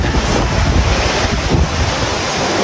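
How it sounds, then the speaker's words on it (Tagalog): Strong wind buffets the microphone in a steady roar, with surf washing underneath on a beach in Boracay; loud and continuous, no voices. "kung nadinig nyo ang malakas na hangin"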